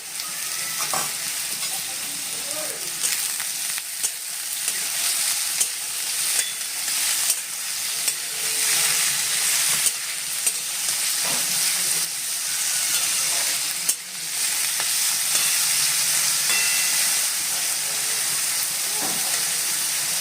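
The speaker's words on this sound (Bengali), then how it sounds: "আলুগুলোকে এবার ভালোভাবে ভাজা করে নেব" Potatoes with dried red chilli fry in hot oil in a kadai, a continuous close sizzle and hiss with scattered stirring taps and scrapes, no voices.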